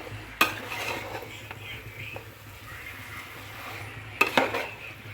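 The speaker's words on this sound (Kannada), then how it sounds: "ಈರುಳ್ಳಿ ಟೊಮಾಟೊ ಎಲ್ಲ ಫ್ರೈ ಮಾಡ್ಕೊಂಡಿರೋ ಜೊತೆಗೆ ನೀಟಾಗೆಲ್ಲ ತಿರುಗಿಸ್ತಾ ಇದ್ದೀನಿ ಒಂದ್ಸರಿ" A spoon stirs fried onion and tomato in a pan with a soft, steady scraping and quiet sizzle, broken by two sharp metallic clinks against the pan near the start and end.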